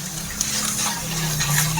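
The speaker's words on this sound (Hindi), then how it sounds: "इसको हम धीमा ताव में लगभग 10 मिनट बिल्कुल पकाएंगे, और इसको हम अच्छे से भून लेंगे" Chole masala frying in a pan on low heat while being stirred, a steady close sizzle with soft scraping strokes throughout.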